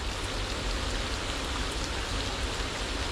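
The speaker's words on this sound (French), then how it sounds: "Parce que là ça pleut fort." Heavy rain pours outside a cave, a dense, steady hiss of falling water with a deep rumbling undertone, loud and unbroken throughout.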